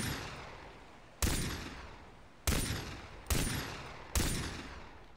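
Four loud gunshots ring out in Far Cry 3, each a sharp blast with a fading echoing tail, spaced about a second apart over a quiet game background.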